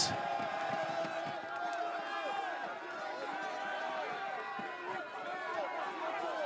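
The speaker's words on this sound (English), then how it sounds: "The crowd going pretty wild today." Large roadside crowd at a cyclo-cross World Cup race in Namur, Belgium, cheering and roaring continuously, a dense wash of shouts, whoops and chatter with scattered clapping, steady and loud throughout.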